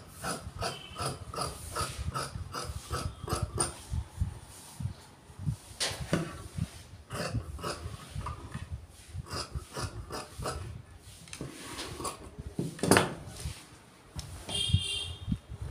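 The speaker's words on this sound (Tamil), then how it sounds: "இப்போ வந்து கிராஸில் தான் வெட்டுறேன், கை வந்து கிராஸில் தான் போடுவேன்" Scissors cutting crosswise through shirt sleeve cloth at a tailoring shop, a series of close, rhythmic crisp snips and rasping blade slides with short pauses between cuts, no talking.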